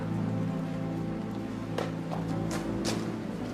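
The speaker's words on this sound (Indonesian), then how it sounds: "Hujan nih." Steady rain falls in a continuous, fairly loud hiss, with a few brief splashes and drips standing out over the constant wash.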